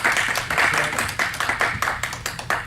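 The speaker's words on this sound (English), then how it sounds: "let's give Zach a round of applause" Fairly quiet clapping from a small group after a talk at a session on trauma and stress-related disorders, with individual claps audible in an uneven rhythm.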